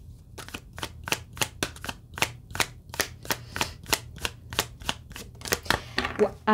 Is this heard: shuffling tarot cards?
yes